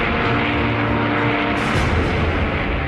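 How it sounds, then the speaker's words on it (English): World War II American B-29 Superfortress bomber aircraft, a dense, loud, continuous roar of heavy engines filling all three seconds with no pauses. "American B-29 Superfortress bombers suffer heavy losses"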